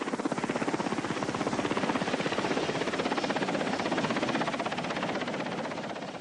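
A Vietnam War evacuation helicopter thuds overhead, its rotor beating in a fast, steady, pulsing rhythm over a loud engine drone, close and continuous for the whole stretch.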